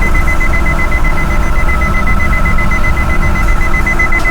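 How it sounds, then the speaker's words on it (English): A warning beep sounds inside an automatic Infiniti G37 shifted into neutral during an MK2 Brainiac installation, a steady rapid repeating electronic tone over a constant loud engine rumble, close and without talk. "it's beeping all the time for me"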